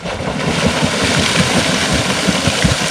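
An old motorboat engine chugs steadily nearby on a lake with a low, uneven putter, mixed with the wash of moving water.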